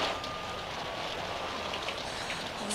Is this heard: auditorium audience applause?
no